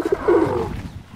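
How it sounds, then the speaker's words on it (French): Homing pigeon in the video game ARK giving a short, soft coo, a single close call lasting under a second. "Bon, homing pigeon, centre to destination."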